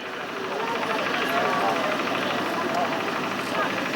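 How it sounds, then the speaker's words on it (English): Hawker Sea Fury piston aircraft engine at an airshow, a steady continuous drone of running engine noise holding level throughout, with broadband roar and a faint voice-like layer over it. "The Sea Fury has started."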